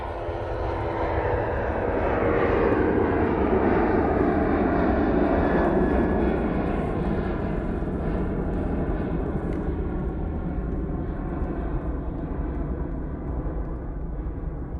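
Jet airliner on its takeoff roll at Manchester Airport: a loud, sustained roar swells over the first few seconds, peaks mid-run and then slowly eases as the aircraft moves away, heard at a distance across the airfield.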